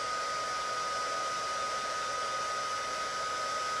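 A hair dryer blows steadily while drying a coloring work, a constant close, even whoosh with a thin whine, no pauses or talk.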